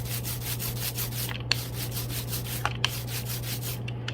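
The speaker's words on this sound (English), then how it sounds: "if you listen carefully, you can hear that ink starts to get sticky." Sticky ink being rolled with a brayer, worked vertically and horizontally for collagraph printing, gives a steady rubbing, tacky hiss that stays continuous and close, with a few faint clicks and no voices.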